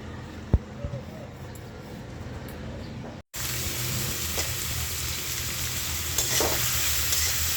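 Roti frying in a pan gives a steady sizzle and faint stirring scrapes, with a brief gap partway through before the hiss resumes louder; speech is faintly present.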